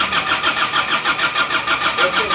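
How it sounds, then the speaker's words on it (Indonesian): A motorcycle engine fitted with NPR liner and piston rings is cranked on its starter, giving a loud, close, rhythmic whirring churn that repeats evenly for a couple of seconds without catching. "Yuk, kita starter dulu."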